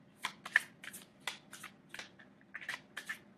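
Tarot cards are shuffled close up in short, crisp riffling bursts, with several quick flurries and brief pauses in a quiet room.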